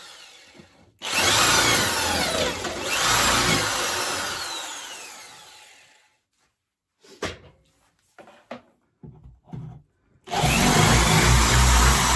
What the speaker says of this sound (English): the drill coming back, and I'm just going to make the holes a little bit larger